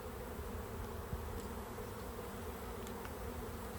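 Steady, low buzzing of many honeybees around a strong hive close by, continuous and even throughout, with no voices.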